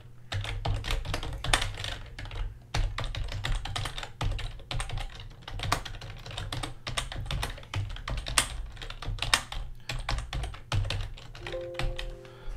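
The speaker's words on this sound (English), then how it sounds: "Too much typing, too little hitting the tab key." Rapid clattering keystrokes on a computer keyboard, dense irregular bursts of typing with short pauses, close and clear over a low steady hum, no talking.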